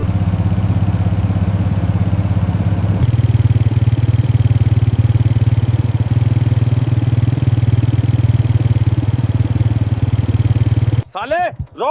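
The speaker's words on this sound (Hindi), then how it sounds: "कोई आर्मी वाला बुलेट से आ रहा है।" A Royal Enfield Bullet motorcycle idles up close with a loud, steady, thumping beat that runs almost unbroken before abruptly giving way to a different sound at the end.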